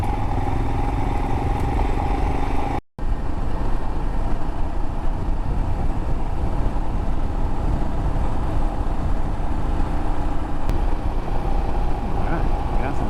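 Motorcycle engine running steadily with wind rush on a twisty tarmac road in the North Carolina hills, a continuous close drone with a brief dropout, and a rider talks over it.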